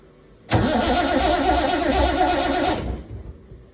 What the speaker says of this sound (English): I'm just gonna kick it a little bit in gear with the starter.